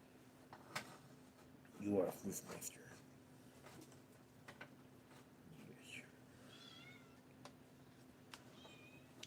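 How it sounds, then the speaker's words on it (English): A fluffy pet cat that dislikes being picked up lets out a loud, wavering meow up close, followed later by softer, higher meows, with faint murmured speech and rustling in a quiet room. "I used to have a cat like this named Nuisance."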